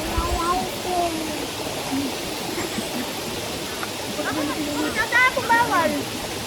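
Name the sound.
river water flowing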